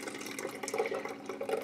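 Cooked potatoes being strained so their water pours into a jar in a home kitchen: a steady, soft trickle and splash of liquid running continuously for under two seconds, fairly quiet with no talk.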